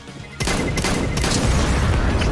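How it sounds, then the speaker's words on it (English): Gunfire in a video game, a sudden loud burst of shots that continues as dense, sustained firing, with a brief quieter lead-in before the first shot. "You can hear like the shot. You can hear the shot."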